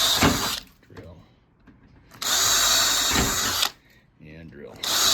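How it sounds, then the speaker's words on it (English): A power drill bores holes through a storm door for a Larson handle, running in loud whirring bursts of about a second each, separated by pauses with quieter handling sounds. "only drill out where you can read the word drill"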